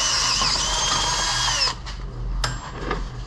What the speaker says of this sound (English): trying to drill out a 1/2 inch hole at the beginning